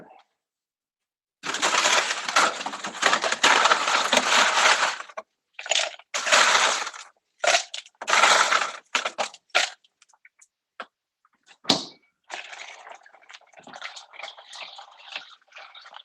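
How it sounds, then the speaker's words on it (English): Ice added to a drink: loud rattling crunches of cubes tumbling into a glass, then several shorter clinks and shakes, close and dry, ending in a softer fizzing settle. "I'm going to go ahead and add some more ice."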